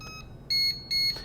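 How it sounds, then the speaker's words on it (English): A Fisher & Paykel respiratory heater sounds its power-on alarm: two sharp, high-pitched electronic beeps, each about a quarter second long and close together, heard up close over a low hum. "Whenever you turn it on, you are going to be greeted by that alarm"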